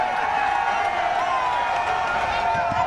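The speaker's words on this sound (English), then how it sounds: "Cheers from the crowd, excited as they are" A crowd gathered at a road construction project site cheers and whoops in a continuous, loud wash of voices that holds steady from start to finish.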